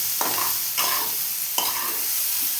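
Vegetables for bread pakoda sauté in a pan, crackling softly while a spatula sweeps through them in three distinct stirring strokes over a steady low sizzle.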